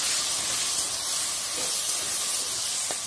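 Water is added to a hot pan of malabar spinach and potato, giving a loud, close, steady hiss of steam and sizzling that lasts the whole moment.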